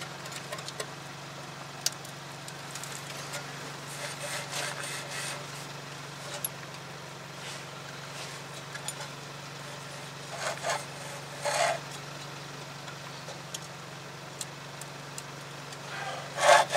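Worn front wheel bearing on a 2009 Toyota Tacoma 4WD being turned by hand, a faint low grinding rumble with scattered rubbing and scraping bursts, quiet and close throughout.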